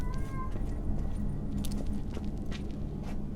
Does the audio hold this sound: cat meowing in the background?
yes